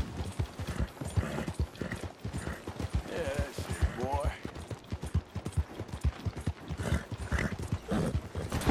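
Rapid, close hoof clip-clops from a horse in Red Dead Redemption 2 beat steadily throughout, with a short whinny in the middle and someone speaking Portuguese over the galloping.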